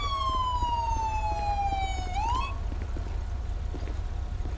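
A video game police car siren in LSPDFR wails with a long descending tone, then rises briefly and cuts off, over a low rumbling engine-like hum.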